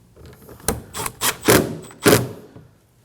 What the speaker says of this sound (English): Now we can go ahead and install these 2 screws.